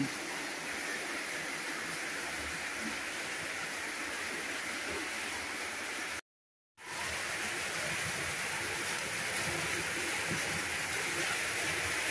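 Rain falls at night at San Favian beach, a steady broad hiss that runs the whole time, broken by one brief cut to silence midway.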